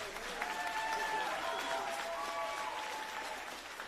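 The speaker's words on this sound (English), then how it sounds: "One more round of applause." Audience applause for award presenters at a virtual career academy closing celebration, a steady wash of clapping that runs throughout, with some faint voices and tonal sounds mixed in.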